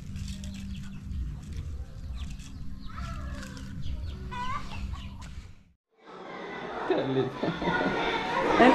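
Chickens cluck in a backyard garden, short choppy calls surfacing briefly amid steady nearby conversation and household noise.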